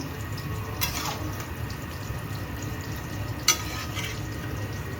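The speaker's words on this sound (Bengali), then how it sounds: "এখানে হচ্ছে মাটন কষা" Mutton kosha cooks in a pan, a low steady sizzle broken by two sharp clinks of a utensil stirring against the pan, close by with no talking.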